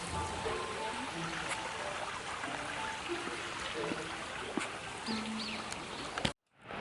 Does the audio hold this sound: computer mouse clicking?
no